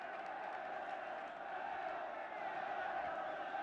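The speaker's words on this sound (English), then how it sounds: "The Welsh crowd looking to lift their side now" A Welsh football crowd at the 1982 Wales v England Home Championship match keeps up a faint, steady, distant roar.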